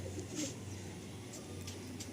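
Madrasi pigeons, a male and female pair, coo softly and low, a faint murmuring under steady background hum with a few brief higher chirps.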